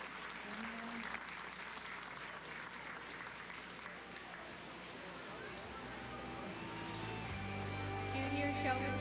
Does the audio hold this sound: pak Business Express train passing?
no